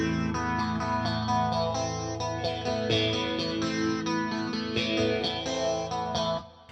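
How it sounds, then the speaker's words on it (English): Clean electric guitar run through chorus and phaser together, a steady stream of shimmering, swirling notes played continuously with no talking, ending in a brief fade. "You get the extra depth of the chorus, but you get that phasing effect that runs through it"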